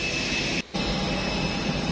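Airliner jet engines roar steadily and loudly on an airport runway as passengers board by stairs, with a brief dip in the noise partway through.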